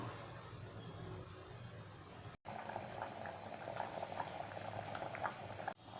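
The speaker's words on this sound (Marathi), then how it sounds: "हे पहा उकळी यायला सुरुवात झाले आहे" Sprouted chickpea curry (chana usal) at a steady rolling boil, a continuous bubbling and seething with frequent small pops, close and fairly loud, broken by one brief dropout.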